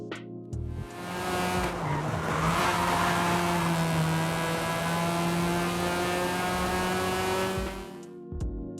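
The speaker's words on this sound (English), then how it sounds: "The stock RX-8 is the worst sounding out of all of the rotor engines in Horizon 5." Stock Mazda RX-8 rotary engine in Forza Horizon 5, revving hard with a buzzy, raspy drone that holds high and steady for several seconds between sharp shifts, loud and close, with some tire noise.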